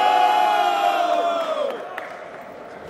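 Crowd at a rap battle cheering and shouting loudly, a dense roar of many voices that holds strong and then fades away.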